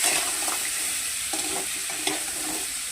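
Desi crabs with thick legs fry in a pan, a loud close sizzle with stirring scrapes and bursts of crackle over a brief stretch.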